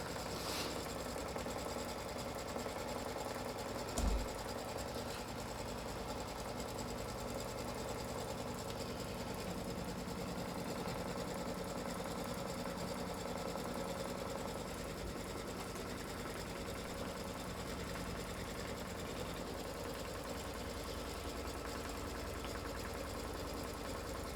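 Embroidery machine stitching quilt blocks with batting in the hoop, a continuous fast mechanical whir and needle chatter holding steady and close for the whole stretch, with one brief knock early on.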